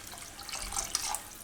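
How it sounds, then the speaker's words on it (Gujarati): Water poured into a cooking pot while making veg American chop suey, a soft, brief trickling splash, faint and close. "હજી પાણી થોડું નાખીશું આપણે આમાં"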